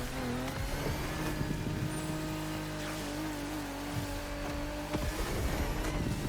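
A Toyota GR86 in the racing game The Crew Motorfest accelerates hard, its engine note climbing and shifting steadily, with faint tire squeal and skidding on a loose surface under the continuous drone.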